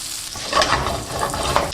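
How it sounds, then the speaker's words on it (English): Butter melts in a hot pan with a continuous close sizzle and soft crackling that holds steady and bubbles slightly louder in places. "Now with the butter, let the butter melt."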